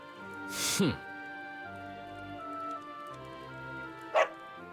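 A dog barks in the Dragon Quest XI video game, a couple of short sharp barks over steady game music, with a voice speaking in between.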